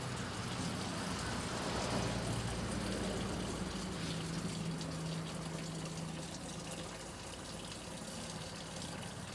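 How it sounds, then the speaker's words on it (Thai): A Samsung 7.5 kg automatic washing machine showing a 4E error drains water in a steady, rushing gush, constant and fairly close, with a faint low pump hum under it. "แล้วก็มันก็ปล่อยน้ำทิ้ง"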